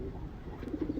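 Pigeons coo softly in low, repeated throaty pulses after being let out of their enclosure following rain, several calls rolling together toward the end with steady background noise.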